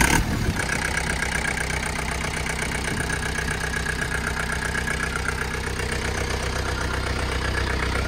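A John Deere 4720 tractor's 4024T diesel engine idles up close, loud and steady with an even low throb and a rhythmic knocking clatter, continuous from the start with no talking.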